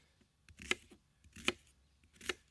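A knife cutting an onion into wedges on a board for a Dutch oven stew, three crisp, separate chops spaced under a second apart, close and clear with quiet handling noise between them.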